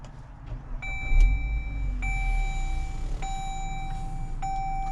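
A 2020 Dodge Journey Crossroad's 2.4-liter four-cylinder cranks and catches with a low rumble, then settles into a steady idle while a repeated electronic warning chime rings over it.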